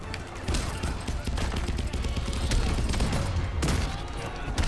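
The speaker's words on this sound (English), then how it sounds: "We both shot each other." Gunfire in the fighting video game Injustice 2, a dense burst of rapid shots and crackling impacts running throughout at moderate level.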